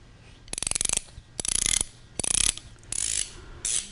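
An Icon ratcheting wrench from a 3/4 inch set, flipped over by hand with no reversing switch, clicks in five quick bursts of rapid fine ratchet ticks, each about half a second long with short pauses between, close and clear with no talk.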